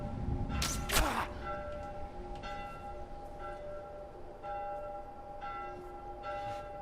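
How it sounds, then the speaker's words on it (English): A bell rings in The Last of Us, opening with a loud double clang and then settling into a slower series of resonant strikes whose tones hang and decay, with no speech. "Can you hear that bell ringing still?"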